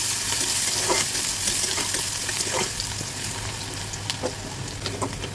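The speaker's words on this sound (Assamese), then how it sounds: "পিঁয়াজখিনি অলপ লাল হোৱালৈকে ভাজিব লাগিব।" Sliced onions fry in leftover fish-frying oil, a continuous close sizzle broken by scraping stir strokes and small pops, steady and fairly loud with no voices.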